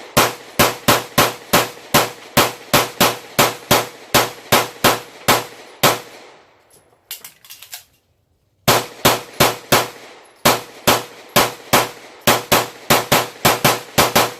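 A CZ-USA Shadow 2 optic-ready pistol fires a long string of loud, evenly spaced shots at close range, pauses for a couple of seconds of quiet handling, then resumes the same steady cadence.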